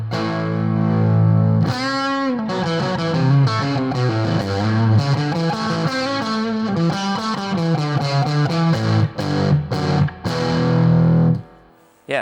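Electric guitar played through a fuzz-based neutral boost power booster pedal, giving a dirty, broken-up tone; a continuous, loud phrase of strummed chords and single notes, alone without talk, ending abruptly.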